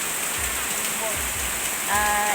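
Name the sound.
heavy rain pouring down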